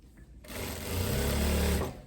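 A sewing machine stitches a thin hem along the side of a trapeze dress, its motor starting after a brief pause and then running as a steady, close, even buzz for under two seconds.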